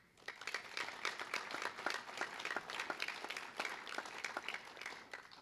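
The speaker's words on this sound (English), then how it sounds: "please join me once again in applauding all of our new Honor Society members" Audience in a high school auditorium applauding new National Honor Society members at an induction ceremony, rather quiet, distant clapping with individual claps distinct in an uneven crackle throughout.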